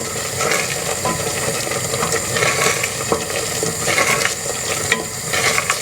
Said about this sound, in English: Keep stirring, making sure that nothing's burning.